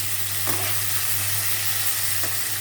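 Fish curry with potatoes cooking in a pan, a steady close simmering sizzle running alone throughout with a couple of faint clinks.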